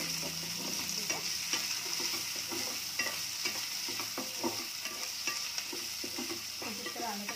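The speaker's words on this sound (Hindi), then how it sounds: "इसको हम लोग थोड़ा भून लेंगे, थोड़ा सा लाइट कलर पिंक कलर आने तक" Chopped onions and two green chilies fry in a pan with a steady, moderate sizzle, punctuated by repeated scraping stirs of a spatula, no voices.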